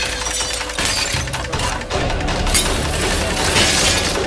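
A glass window shatters amid dense crashing and breaking debris during a smoke-filled escape in a horror film, loud and close with scattered tinkling fragments throughout.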